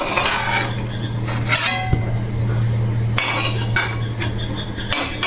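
A pot of boiled potatoes comes off the stove, with metallic clanks and clinks of cookware and utensils against a low steady burner hum, close and fairly loud, no talking.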